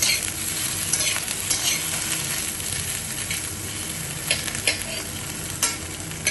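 Paneer slices fry in a pan with very little oil, producing a constant close hissing sizzle punctuated by a few sharp spatula scrapes and clicks.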